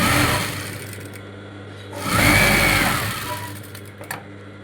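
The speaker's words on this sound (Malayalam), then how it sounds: "പട്ട ബ്ലൗസിൻ്റെ ഫ്രണ്ട് പോർഷനിൽ വെച്ച് ഇങ്ങനെ തയ്ക്കുക." Sewing machine stitching the front portion of a silk blouse, running in bursts with a loud surge midway, then slowing and stopping with a few clicks near the end.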